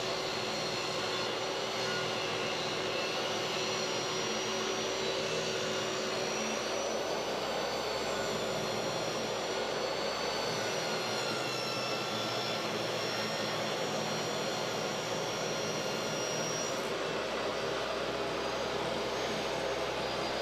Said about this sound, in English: Next, I adjust the table saw just to take a couple of millimeters off the board that I'm joining and run that through the saw